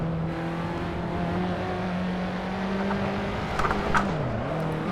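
Race car engine in the Assetto Corsa driving game, droning steadily at high revs, then a short burst of louder revving before the pitch dips and climbs again, close and alone with no talk.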